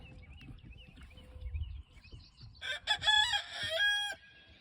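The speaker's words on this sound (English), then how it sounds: "My chickens are being crazy." Hens clucking in the background give way to loud, close rooster crowing and excited squawks from several chickens on a Kansas spring morning, with no talking.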